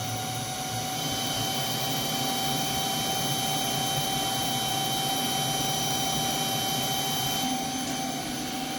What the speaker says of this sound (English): it is officially running a lathe program right now